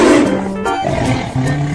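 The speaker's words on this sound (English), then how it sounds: "Tiger." A tiger roars in one sustained, deep, rumbling call lasting under two seconds, loud and close, with no voices.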